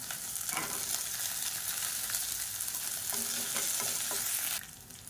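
Finely chopped ginger and garlic fry in a pan and are stirred until golden. A steady, faint sizzle runs throughout with light stirring scrapes, then drops off abruptly near the end.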